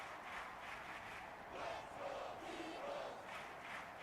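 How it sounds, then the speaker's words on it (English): Stadium crowd in Madden 24 roaring after the Eagles defense sacks the quarterback: a dense, steady wall of cheering with rising swells, heard alone without talk. "Hear that crowd going wild for the Eagles."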